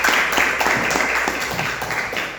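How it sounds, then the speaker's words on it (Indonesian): A classroom of vocational students clapping together, giving a steady, fairly dense patter of applause that carries on evenly throughout. "Ya, boleh tepuk tangan dulu buat kalian."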